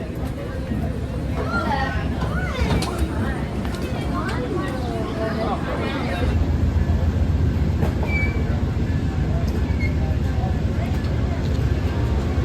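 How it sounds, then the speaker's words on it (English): Passenger train rolling along railway tracks toward Manassas, Virginia, a steady low rumble and rattle heard from on board, with people talking over it in the first half. "our train leaves tracks that are owned by CSX and moves on to Norfolk Southern tracks for the remainder of our about 50-minute journey to Manassas"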